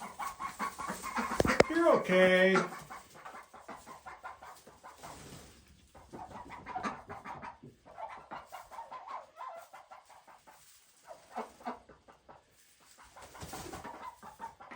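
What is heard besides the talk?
khaki Campbell ducks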